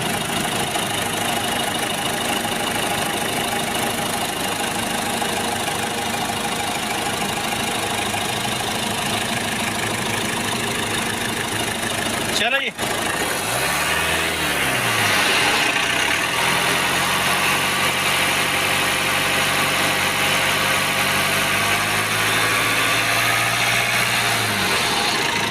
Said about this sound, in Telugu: ఇంజన్ సౌండింగ్ అయితే మీకు ఒకసారి వినిపిస్తాను, మీరు వినండి.